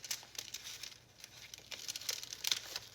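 A paper envelope pocket made from junk mail slides into a junk journal, heard as soft, close crinkling and rustling of paper in irregular bursts, fairly quiet throughout.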